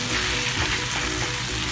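Onions frying in a pan for spicy chicken gravy, a dense, close, steady hiss of sizzling oil with no voices.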